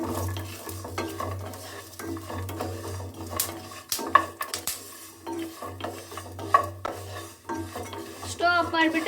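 Sesame seeds, cardamom powder and dry fruits being stirred and fried in a pan with the stove switched off, heard as a continuous close scraping and rattling of a spatula over a soft sizzle, with a faint low hum beneath.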